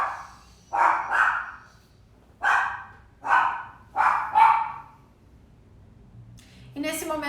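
A pet dog named Kiron barks in loud, close bursts, six sharp barks in irregular pairs and singles over a few seconds, with a brief voice at the end.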